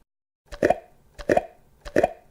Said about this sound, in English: That is the sound of me opening up a jar.